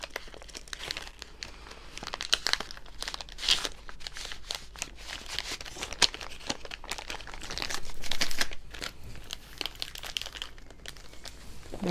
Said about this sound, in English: we're going to slip them in the pencil pack.